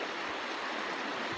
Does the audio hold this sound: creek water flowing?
yes